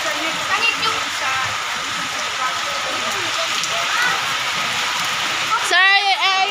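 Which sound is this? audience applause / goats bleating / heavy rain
heavy rain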